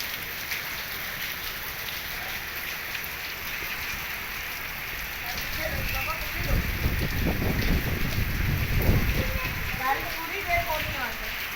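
Steady rain pattering on a surface, growing heavier midway, with low rumbling and faint voices underneath.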